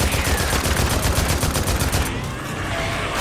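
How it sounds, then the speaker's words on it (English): Rapid automatic gunfire rattles in dense bursts in the video game Days Gone, loud and close, then eases into a quieter stretch. "A little bit more gunfire here."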